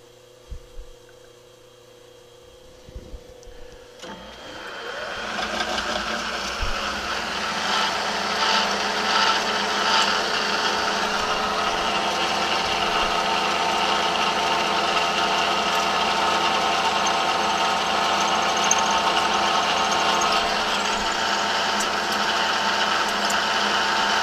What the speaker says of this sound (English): Figured it'd be easier just to drill it this way